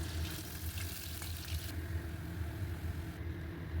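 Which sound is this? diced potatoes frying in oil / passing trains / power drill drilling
diced potatoes frying in oil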